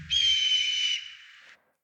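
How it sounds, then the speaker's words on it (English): A red-tailed hawk call, from a bird-of-prey sample recorded outdoors near a home: one long, high, piercing cry lasting about a second and a half, close and clear with nothing else around it. "a red-tailed hawk"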